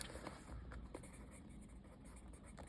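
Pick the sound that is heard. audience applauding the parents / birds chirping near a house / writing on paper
writing on paper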